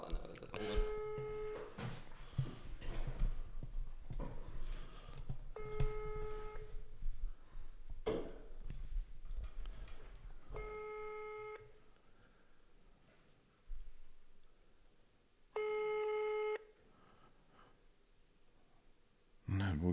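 A telephone ringback tone repeats in long evenly spaced bursts while the call goes unanswered, heard over a speakerphone with people talking and sighing in between.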